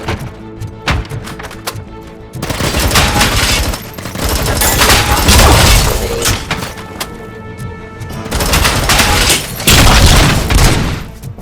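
Gunfire erupts in a fight in the video game Robocop: Rogue City, with loud, rapid volleys and heavy booms arriving in dense waves throughout.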